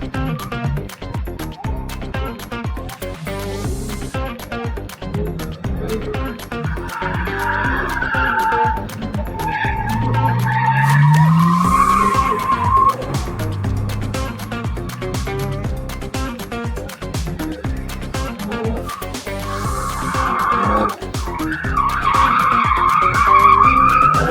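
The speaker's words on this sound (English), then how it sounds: "that's what BMWs are made for. Bit of sideways action." A BMW drifts sideways at a motor show demonstration, tires squealing and skidding in long loud screeches over a revving engine, with several swells of tire noise as the car slides.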